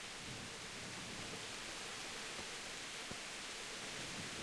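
A heavy downpour pours down in Kingdom Come: Deliverance, a dense, steady hiss of rain that stays constant throughout, soft and enveloping with no voices.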